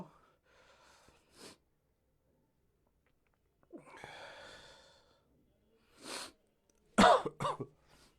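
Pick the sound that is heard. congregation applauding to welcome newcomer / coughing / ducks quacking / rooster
coughing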